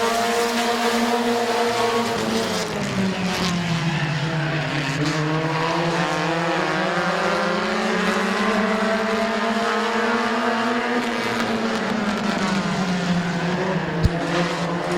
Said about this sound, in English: Bart Busby to the outside of Mike Stuber for second.